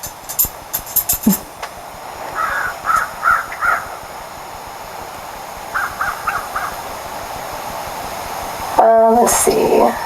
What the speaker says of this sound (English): I think those are crows.